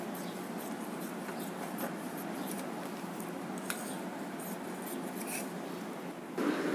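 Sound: scissors cutting blouse hook strip fabric

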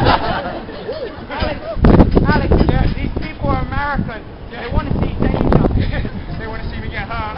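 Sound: wind blowing

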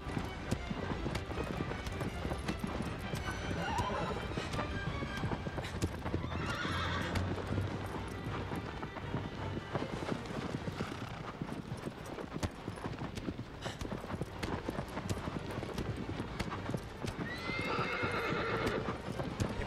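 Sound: horse galloping in video game Shadow of the Colossus

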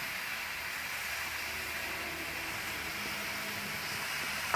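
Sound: sweet pumpkin slices frying in a pan

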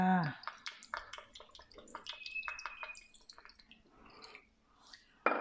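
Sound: fish sauce being poured into duck larb

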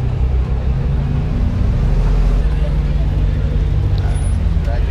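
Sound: Jeep Rubicon driving off-road

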